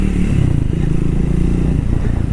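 Triumph Thruxton 400 motorcycle riding through city traffic, a steady low engine drone heard up close and continuous with no talking over it.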